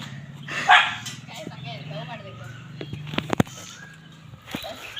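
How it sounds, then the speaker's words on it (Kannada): A dog barks and yips close by in short, uneven bursts while people talk over it. "ಗೈಸ್ ಇದೆ ವಿಕಾಸ್ ಅವರ ನಾಯಿ."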